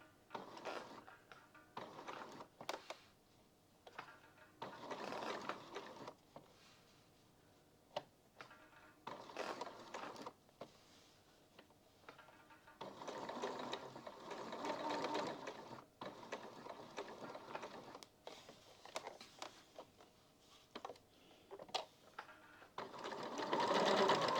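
A sewing machine stitches a shirt collar in short bursts of rapid mechanical whirring, stopping and restarting several times as the fabric is turned, close and alone without speech.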